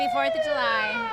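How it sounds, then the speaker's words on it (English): A fire truck siren wails upward and sweeps in a loud, close tone at a Fourth of July parade while a voice speaks over the start of it. "that's the siren you'll hear if you're really not getting out of the way"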